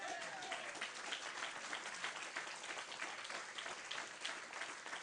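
Church audience applauding, a faint, distant patter of many hands clapping steadily without a break.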